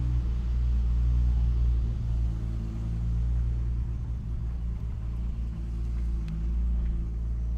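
Toyota Supra car rumbling low and steady as it pulls away slowly, close and continuous with no talk.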